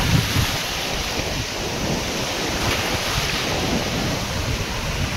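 Ocean surf at Rushikonda beach rolls in as a steady broadband wash, with wind buffeting the microphone throughout and no voices.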